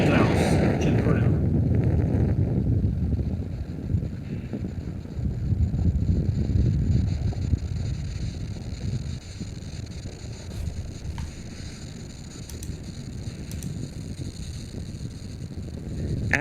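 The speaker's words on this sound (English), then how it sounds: "Falcon 9 has successfully lifted off from Slick 4 East carrying the EarthCare satellite" A Falcon 9 rocket lifts off from Slick 4 East carrying the EarthCare satellite, producing a broad, crackling low roar that fades somewhat over time, with voices talking over it.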